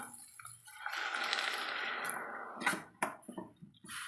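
Water splashes and rushes into a pan of crushed shallots and ridge gourd for a couple of seconds, followed by scattered clinks and taps of cookware.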